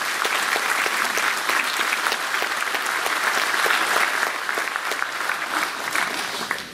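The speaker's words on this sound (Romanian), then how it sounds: "vă rog frumos aplauze pentru cei doi" A crowd at a Romanian party organization's meeting in Călărași applauds, with steady, dense clapping at a loud level that holds throughout and tapers slightly near the end.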